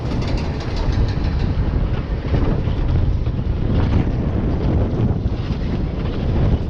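A theme park ride rushes with a loud, steady roar of wind and rattling track noise as it goes over a big drop outdoors.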